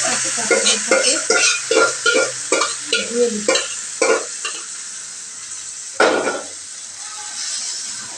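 Malabar spinach being stir-fried in a pan: a spatula scrapes and stirs in a quick series of rhythmic strokes over a steady sizzle, then one last stroke followed by quieter frying.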